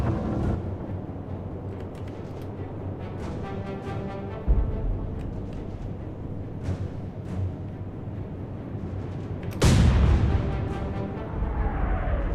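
Royal Navy naval guns fire at a ship's engine compartment in Atlantic Fleet, with two heavy, deep booms several seconds apart over a low rumbling ambience, the second blast louder with a lingering roll.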